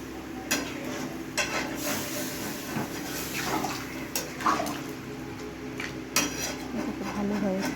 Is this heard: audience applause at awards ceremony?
no